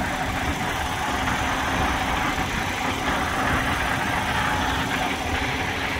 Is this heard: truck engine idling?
yes